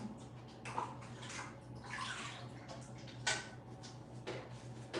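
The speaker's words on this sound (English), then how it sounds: "We're gonna fill her water dish back up." Water runs and splashes into a python's water dish during enclosure cleaning, a faint continuous trickle with small clinks and sloshes, heard close but at low volume.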